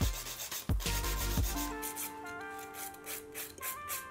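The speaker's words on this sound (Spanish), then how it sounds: "Y voy a estar utilizando mi lima Zebra grano 100 sobre 100." Nail filing on a sculpted nail with a Zebra 100/100 grit file makes soft rubbing, rasping strokes, a few firmer at the start, under a faint tonal background.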